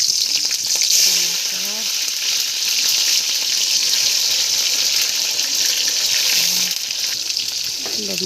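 Panch phoron spices and green chillies fry in a hot wok for a cauliflower sabji, giving a steady, loud sizzle with brief stirring scrapes near the start, continuous throughout.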